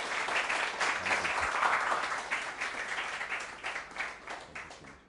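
An orientation audience claps to welcome a guest speaker, a journalist, with a fairly quiet, sustained patter of many hands that swells early and thins toward the end.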